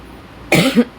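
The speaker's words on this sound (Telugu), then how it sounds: "ఏమనుకోకండి దగ్గు వస్తుంది బాగా" A person coughs twice in quick succession, close and loud, with a second smaller hack just after the first, against quiet room tone.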